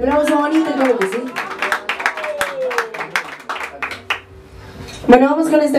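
Guests at a birthday party clap for a youth mariachi group. The applause comes as a run of sharp hand claps under singing and talking voices, then fades before the music picks up again.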